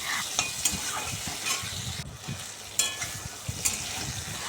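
Cut potato and pointed gourd frying in oil with salt and turmeric, a close hissing sizzle with repeated spatula scrapes and clinks against the pan.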